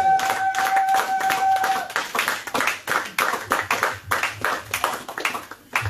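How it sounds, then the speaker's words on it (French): A church congregation claps and applauds to acclaim the Lord during a French-language sermon, a steady, loud burst of many hands lasting throughout, with a brief sustained tone fading early on. "Est-ce qu'on peut acclamer le Seigneur?"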